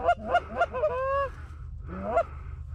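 Canada geese honking as they fly in over a duck and goose hunt in Alberta, several loud close calls in quick succession followed by another burst, with low wind rumble underneath.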